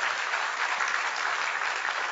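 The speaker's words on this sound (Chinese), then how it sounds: "我们再次给 Dr. Lim 一个真的真的一个掌声" Audience applause for Dr. Lim at a leadership training event, a dense, steady clapping crowd continuing evenly throughout.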